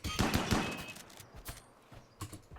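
Video game gunfire at a kill box: a rapid burst of several shots up front, then scattered single reports, loud and close.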